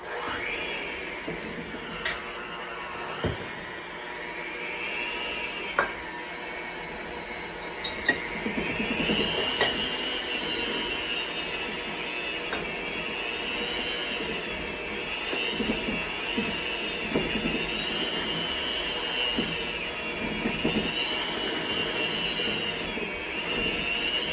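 An electric mixer whirs steadily through chocolate chip cookie dough, a continuous high motor whine with occasional clinks against the bowl.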